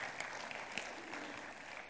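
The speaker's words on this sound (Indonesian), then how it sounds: "beri tepuk tangan untuk kemuliaan Tuhan." A church congregation applauds during a sermon, a faint, steady wash of clapping from across the room with no distinct individual claps standing out.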